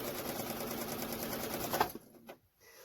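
A sewing machine stitches together free-cut quilt fabric pieces with a close, steady mechanical whir. It runs evenly for about two seconds, then stops abruptly, leaving a few faint clicks and handling sounds.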